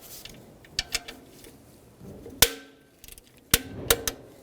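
A ratchet loosens a 10mm mounting bolt on the main power wire at the alternator of a 2012-2017 Toyota Camry 2.5L, giving scattered sharp metallic clicks and knocks at close range, with short bursts separated by quiet gaps.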